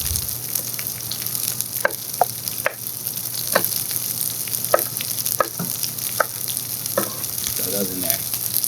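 Chopped cherry peppers fry in a pan outdoors, a constant bright sizzle with scattered pops and light stirring clicks, close and steady.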